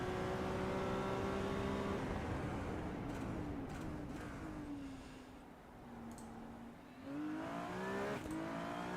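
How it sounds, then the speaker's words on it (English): A high-revving Ferrari race car engine in a video game whines and climbs through gears, easing off mid-way before surging again, with a whistling turbo tone over the roar. "Listen to that turbo."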